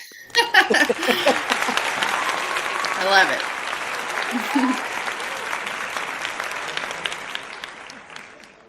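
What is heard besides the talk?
audience applause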